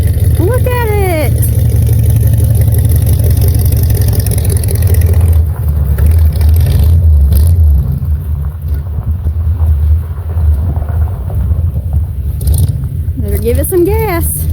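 An original 1969 Chevy C10 pickup, parked for over 20 years and running from a plastic fuel jug, holds a loud, low, rough engine rumble with surges. People talk over it, and a bright whine rises near the start and end.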